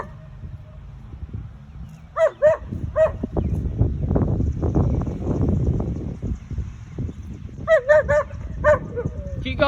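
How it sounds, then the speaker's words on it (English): A dog barks in short bursts at charging cows, sharp yaps in clusters over rustling and trampling outdoors, with a person calling out between barks. "Keep barking."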